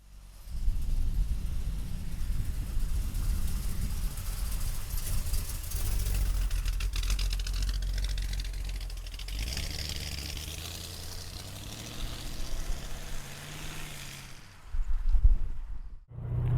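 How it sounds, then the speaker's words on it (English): A 1935 Ford street rod with big tires idles steadily close by, a deep, rumbling low engine note that holds throughout, with a slight rise in pitch near the end, then a brief louder burst and a sudden dip. "let's go for a ride in a 35 Ford"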